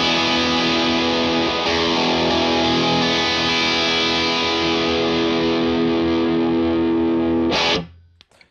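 Electric guitar played through a Bearfoot FX Dyna Red 4-knob distortion pedal with a Marshall Plexi-style British rock voicing, producing a loud, sustained, saturated chord tone that rings steadily for about seven seconds before cutting off abruptly.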